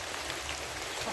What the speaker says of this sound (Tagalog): Basang-basa na ako sa ulan.